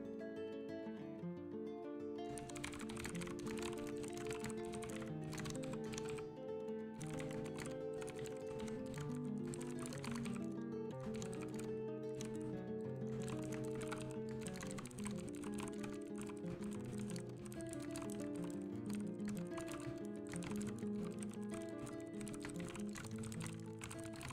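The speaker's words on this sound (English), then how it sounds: "I'll change my mic so you can hear me typing it out to them." Rapid, uneven clicking of typing on a computer keyboard, faint and close, running continuously under a louder bed of background music.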